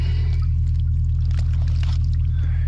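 Water flows out of muddy ground in a steady, constant rush, with a strong low rumble underneath and faint trickling and splashing on top, close by and with no talking.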